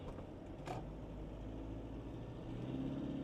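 Toyota Fortuner diesel SUV pulling away under acceleration on a main road, with a steady low engine drone that swells slightly toward the end, heard from inside the cabin at fairly low volume.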